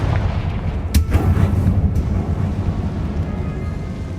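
Confringo fire spell explosion in the game Hogwarts Legacy, a sharp blast followed by a second crack and rumbling low-end booms that fade into a lingering roar.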